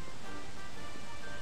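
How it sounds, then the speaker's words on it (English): A waterfall in the video game Dragon Quest XI gives a steady, broadband rush of falling water, even and continuous at moderate level with no voices over it. "Oh, we can go behind the waterfall."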